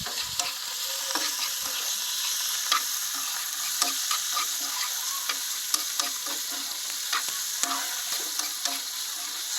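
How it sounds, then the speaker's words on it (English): Tomatoes go into a hot pan and sizzle steadily while a utensil stirs and scrapes in frequent light clicks, a close, even frying hiss with no talk. "So now let's add in our tomato."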